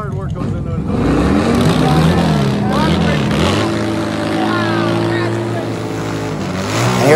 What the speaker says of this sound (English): George Bryce, NHRA Pro Stock legend on the 100-year anniversary, CBO Road King